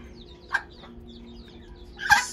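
A hen clucks to call her chicks to food, two short bursts of clucking about a second and a half apart, fairly close over a quiet farmyard background.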